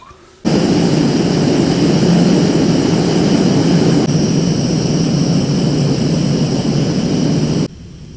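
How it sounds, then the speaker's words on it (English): Primus Classic Trail backpacking stove burner running at high, medium and low flame, a steady close roaring hiss that starts abruptly, holds for about seven seconds with a slight drop midway, then cuts off. "And the look and sound of high, medium, and low on the Primus Classic Trail Stove."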